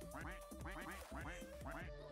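Cartoonish ducks in the Roblox game Duck Army quack in a rapid, overlapping chorus, repeated nasal calls tumbling over one another continuously, loud and close.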